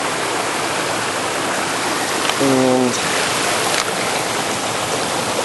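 A mountain creek near Mt Williamson rushes steadily, a close, loud broadband wash of flowing water throughout, with a brief spoken word over it partway through.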